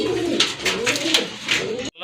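Domestic pigeon cooing at close range, several soft repeated coos in a steady rhythm over a quiet background hiss, with no speech.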